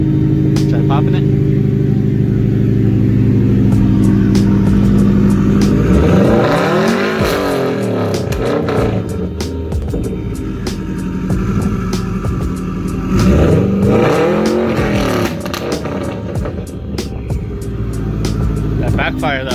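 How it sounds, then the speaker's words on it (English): A Subaru WRX engine revs hard in two long sweeping climbs and falls, loud and close, with crackling pops of backfire on the overrun and voices talking over it. "That backfire though."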